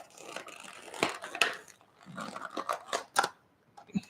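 Plastic fishing lure packaging being cut through by hand without a knife, giving close crinkling, snipping and crunching in irregular bursts with a few sharp clicks, no speech.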